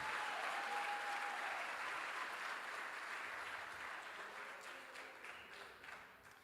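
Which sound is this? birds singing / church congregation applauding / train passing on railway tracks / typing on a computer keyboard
church congregation applauding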